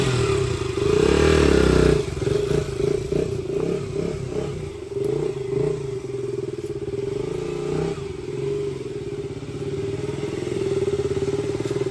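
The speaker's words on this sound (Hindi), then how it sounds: "ये उसकी बाइक है ड्यूक 125" A KTM Duke 125 motorcycle engine runs close by, with a brief throttle blip at the start and then a steady, buzzy idle with a slight mechanical clatter.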